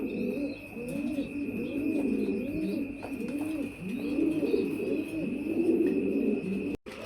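Fancy pigeons at a pigeon farm in Bangladesh coo continuously, with several birds' rolling, overlapping calls close by and a faint steady hum behind them.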